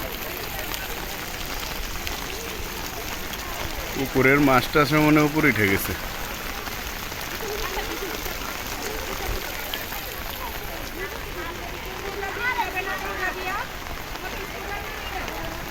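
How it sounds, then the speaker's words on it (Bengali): Heavy rain pours steadily over a school campus, a dense continuous hiss, with someone speaking briefly over it partway through. "অনেক বৃষ্টি।"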